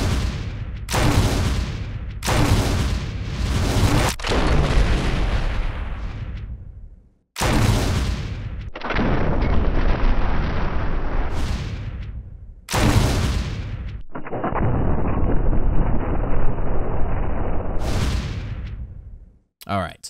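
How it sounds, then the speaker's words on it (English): In the Resident Evil REmake, a grenade launcher fires round after round into a wall. About seven loud, booming explosions follow one another, each trailing off before the next lands. "being grenade launcher, I'll face towards a wall so you can see the explosion"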